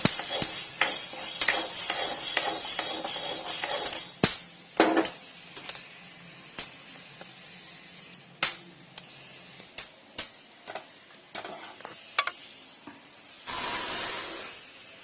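Whole black peppercorns dry-roasting in a pan give off sharp, scattered pops and crackles over a soft hiss, with sparse irregular snaps and a brief louder burst of sizzling near the end.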